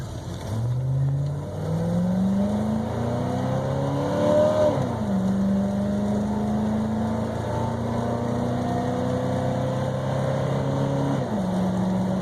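A 1992 Chevy Silverado Z71 4x4 with 215,000 miles, aftermarket headers and a K&N air filter drives along. Its engine drones loud and close, climbing in pitch through the gears, dipping at each shift, then settling into a steady cruise.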